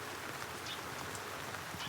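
Steady rain hisses continuously, a dense even patter with no voices.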